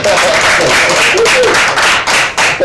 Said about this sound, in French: Ça s'applaudit, ça s'applaudit.